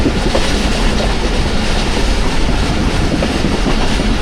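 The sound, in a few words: train running on rails near Suhawa, Pakistan Express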